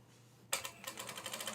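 Sewing machine stitching a terry cloth seam, starting abruptly after a near-silent pause and running as a quick, even, close-up rattle of needle strokes.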